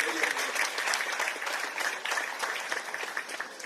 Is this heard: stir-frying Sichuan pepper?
no